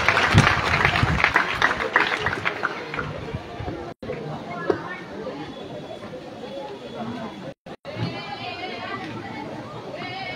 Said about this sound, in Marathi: मी सर्वांना विनंती करते की आजच्या प्रमुख उद्घाटकांचे जोरदार टाळ्या वाजवून एकदा स्वागत करावे